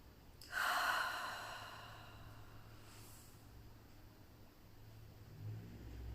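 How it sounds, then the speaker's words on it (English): A deep breath in and out during a calming breathing exercise: one audible inhale and long, soft exhale, close and quiet over a low background hum, no talking. "So let's just take a deep breath."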